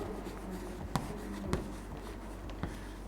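Pen or chalk writing during a maths lesson, a soft steady scratching with a few sharper taps, faint and close, with no talk over it.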